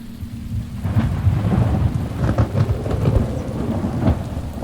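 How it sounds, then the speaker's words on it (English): A thunderstorm over a tropical island during a hurricane, with loud rolling thunder booming over a steady roar of heavy rain and wind, continuous and close, with no voices. "We heard loud thunder and heavy drops of rain began to fall."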